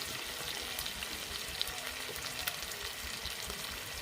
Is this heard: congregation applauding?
no